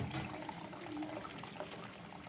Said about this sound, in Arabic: يبقى نفضي الصوص الاول هنا